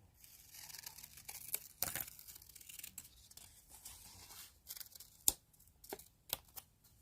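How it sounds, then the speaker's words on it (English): Quiet, close snips and crisp paper rustles, irregular cuts spaced a second or so apart with a few sharper clicks. "I'm going to take my scissors, and I'm going to cut around this image"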